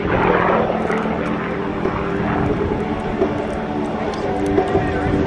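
Continuous heavy roar of a propeller airplane engine passing nearby at an air show, loud and steady with no pauses.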